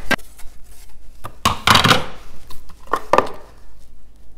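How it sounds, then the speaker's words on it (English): Onions sliced with a Fullstar vegetable chopper, heard as a few sharp, close clacks and crunches of the blade pressing through the onion, with quiet pauses between them. "Three onions sliced up, ready to freeze"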